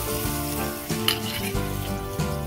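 Raw mango pieces frying in oil for a Bengali fish curry, a steady close sizzle with scraping stirs, under a sustained musical tone, with no talking.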